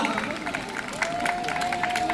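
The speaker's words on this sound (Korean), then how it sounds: "박수로 다시 한번 환영하겠습니다" A crowd at an outdoor family culture festival applauds to welcome the city mayor: moderate, continuous clapping spread across the audience, set somewhat back, under an amplified announcer's voice and a steady electronic tone.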